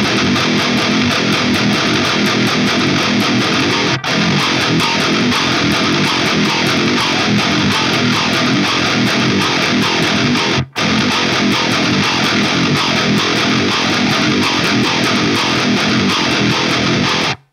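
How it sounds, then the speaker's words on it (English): A heavy metal guitar riff built on hammer-ons plays loud and dense for over fifteen seconds, with two brief breaks, and no voices. "this is like just the best example of a hammer-on riff that I write"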